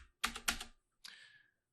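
A few soft, close taps on a computer keyboard while a dollar amount is entered, coming as two quick strokes and then a lighter one in a quiet room.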